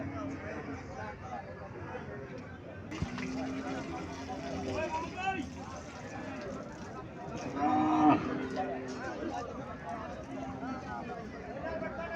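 Large cows moo at a village cattle market in Comilla, a few drawn-out lowing calls rising over busy crowd chatter and outdoor bustle, one call near and loud.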